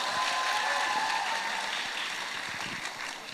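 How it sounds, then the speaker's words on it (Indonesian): An audience at Jong Indonesia Festival 2025, a youth festival, claps in a sustained, even wash of applause that sounds somewhat distant and slowly fades. "Boleh tepuk tangan sekali lagi?"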